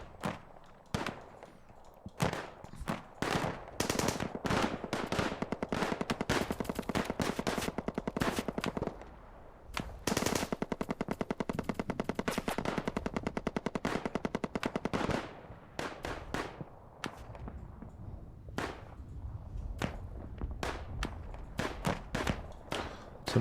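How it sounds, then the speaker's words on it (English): Rapid machine-gun and rifle fire rattles through a WW1 trench strategy game, long dense bursts crackling continuously with brief lulls and scattered single shots, all without talking. "So now we're shooting both from here and here, which makes it difficult for the enemy."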